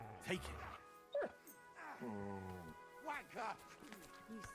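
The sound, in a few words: dog barking in Kingdom Come Deliverance 2 video game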